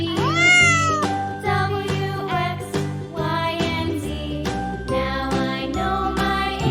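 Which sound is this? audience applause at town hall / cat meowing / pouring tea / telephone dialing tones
cat meowing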